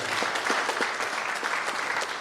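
Audience at a convention in Bihar clapping loudly and continuously, a dense steady patter of many hands filling the room, with no speech over it.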